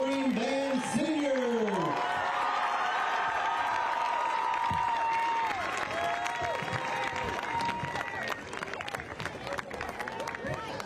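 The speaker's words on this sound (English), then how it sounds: "One big round of applause for our Wolverine Band Senior." A stadium crowd at a high school football game applauds and cheers for a Wolverine band senior, a sustained wash of clapping and hubbub with voices over the top that swells and stays loud.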